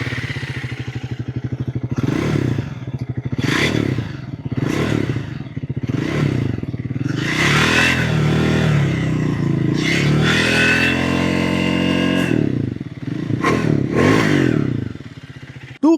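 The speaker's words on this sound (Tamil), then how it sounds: "இந்த மோட்டர் சைக்கிளோட எக்ஸாஸ்ட் நோட் எப்படி இருக்குது அப்படின்னு பார்க்கலாம்" A Triumph Thruxton 400 cafe racer motorcycle revs its exhaust repeatedly up close, the engine rising and falling in a series of loud throttle blips over an idling rumble.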